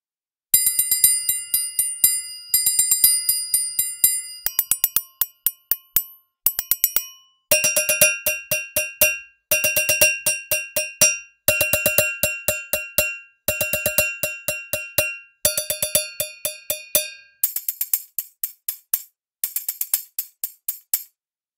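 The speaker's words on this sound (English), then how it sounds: "Finger bells here." Finger bells from a trailer percussion sample library ring in quick bursts of bright, metallic tinkling strikes, grouped into rapid rhythmic phrases separated by short silences, closely recorded and heard alone.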